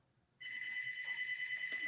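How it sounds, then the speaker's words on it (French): A landline telephone rings with an answering machine set to pick up, a steady electronic ring tone cutting in after a brief quiet moment and sounding loud and sustained to the end. "Excusez, j'ai un téléphone qui sonne."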